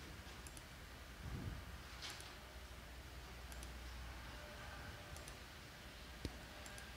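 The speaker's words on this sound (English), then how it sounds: "Just keep on clicking on the skip button" A computer mouse clicks repeatedly on a skip button during Windows 11 C drive cleanup, a series of faint, sharp, isolated clicks spaced irregularly over quiet background hiss.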